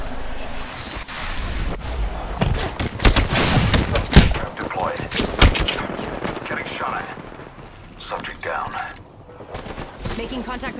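Gunfire in the battle royale game Apex Legends: dense bursts of automatic fire and fusillades, loud and close, rising and falling in waves over about ten seconds, with voices heard among the shots.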